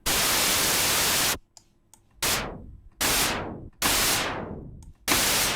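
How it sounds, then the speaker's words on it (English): Bursts of synthesized noise: a broad white-noise hiss, then several short blasts of pink and red noise that darken as they fade, each separated by brief silences. "here's white noise, pink noise, and then red noise"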